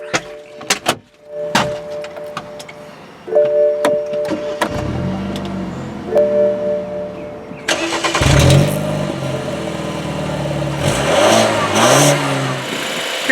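A 2013 BMW X1 sDrive28i crossover with a 2.0-litre turbocharged four-cylinder cranks and fires, then settles before two sharp revs climb and fall, heard close and loud after some clicks and chimes.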